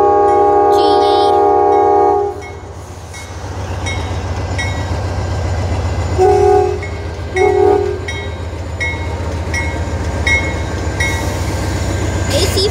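A GE AC44C6M diesel locomotive passes close by, sounding a loud multi-tone horn for about two seconds. Its heavy engine rumble and rolling wagon noise continue steadily, and brief squeals or horn-like tones come through midway.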